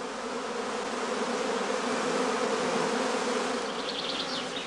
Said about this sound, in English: The bees are now restless and run back and forth in the beeways.